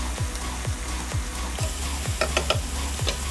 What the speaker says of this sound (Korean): 중약불에서 마늘이 타지 않게 오일에 마늘 향을 입혀주세요